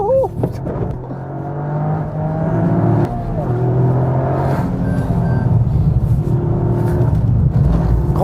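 A Toyota GR Yaris or Supra engine revs up, rising from a low rumble to a stronger, sustained roar with climbing pitch, close by and loud.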